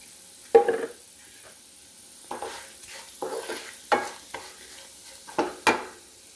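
Kashmiri chilli powder being stirred into lime pickle frying in a pan, heard as a few scattered scraping strokes over a faint, low sizzle, with quiet gaps between the bursts.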